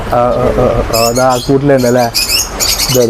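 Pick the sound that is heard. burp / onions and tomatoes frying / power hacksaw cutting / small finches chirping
small finches chirping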